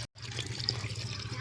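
Water from a motor-driven pump gushes steadily out of a hose pipe, a continuous, soft splashing flow after a brief silent moment at the start.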